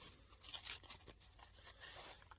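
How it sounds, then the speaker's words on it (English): A long paper envelope from Ohio ripped open by hand, a close, rough tearing that comes in a few ragged bursts over a couple of seconds with no one speaking. "I'm not going to use my knife. I'm just going to rip into it."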